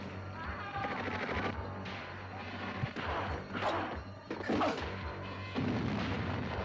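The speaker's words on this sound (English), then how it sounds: "A lot of explosions." Booming explosions and bursts of gunfire from the film Cocaine Wars crash repeatedly over a rumbling soundtrack, heavy and cinematic, with faint voices mixed in.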